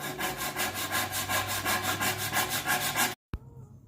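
A pull saw cuts wood for a cutting board in quick, even strokes, a steady rasping rhythm up close, then stops abruptly with a final knock.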